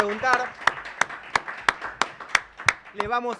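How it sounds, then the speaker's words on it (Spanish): Even, rhythmic clapping from a talk-show audience welcoming a guest, about three claps per second, fairly close, framed by someone speaking at the start and end. "Por favor, un fuerte aplauso"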